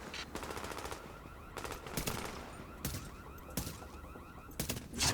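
Gunfire in Tom Clancy's The Division comes in rapid bursts of automatic shots, separated by short pauses, over a low steady background hum.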